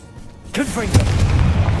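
A Confringo fire spell blasts in the video game Hogwarts Legacy with a loud, booming burst. A rumbling, crackling tail follows and carries on to the end, right after a short shouted incantation.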